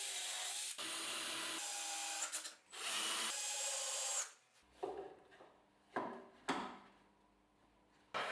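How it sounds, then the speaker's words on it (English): A drill drives screws into three wooden parts of a homemade tilting fence for a cheap jointer-planer combo. Two long whirring bursts run up close, followed by several short, quieter pulses of the tool. "Then I screw the 3 parts together."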